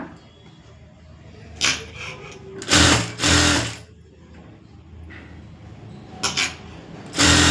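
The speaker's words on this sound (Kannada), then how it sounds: "ಇದಕ್ಕೆ ಫಸ್ಟು ಒಂದು ರೆಡಿ ಸ್ಟಿಚ್ ಹಾಕೋಬಿಡೋಣ" A sewing machine stitches thread piping in a series of short, loud, close bursts of rapid needle clatter separated by quiet pauses.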